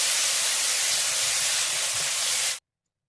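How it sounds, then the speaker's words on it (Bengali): Ground tomato paste hits hot mustard oil in a pan and gives a loud, steady hiss of frying that runs unbroken for over two seconds, then cuts off abruptly into silence. "আমি সর্ষের তেল দিয়ে দিয়েছি। আবার টমেটো, আমি একটা টমেটো বেটে নিয়েছি, দিয়ে দেবো। টমেটোটা ভালো করে কষে নেব।"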